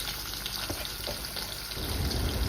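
Chopped onions sizzling and crackling in hot oil in a pan while tomato rice is being made, a steady close frying hiss that swells louder near the end, with no voices.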